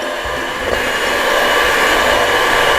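A hand-held electric mixer beats cupcake batter at a steady loud whir, a continuous motor drone that brightens slightly and holds level through the whole stretch, with no talk over it.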